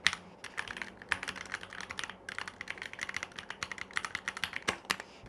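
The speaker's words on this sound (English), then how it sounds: "What I love most is the typing sound. That satisfying cracky sound makes typing so much more enjoyable." Typing on a Keychron K2 mechanical keyboard: a fast, steady run of crisp, clacky keystrokes, close and fairly loud, with no talking.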